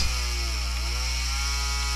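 A chainsaw in the classic video game Doom runs steadily, a loud, continuous buzzing engine drone close up with no pauses and no talking.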